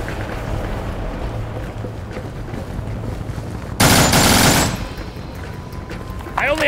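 Gunfire from the zombie survival game No More Room in Hell, with a loud, dense burst of shots near four seconds standing out over a steady background din and a brief sharp sound at the end.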